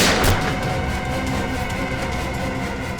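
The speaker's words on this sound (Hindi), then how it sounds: "इस कमरे से गोलियां चलने की आवाज आ रही है।" Gunshots go off inside a room: a heavy opening blast is followed by a dense run of booming, rumbling reports. The shots are loud and close, with no speech over them.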